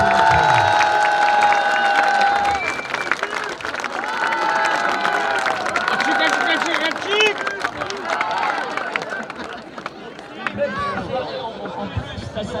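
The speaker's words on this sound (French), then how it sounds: "Je demande que nous les applaudissions pour leur présence." An audience at the Château de Bernicourt festival applauds a visiting German delegation, a crowd's clapping and murmur spreading under an amplified voice speaking throughout.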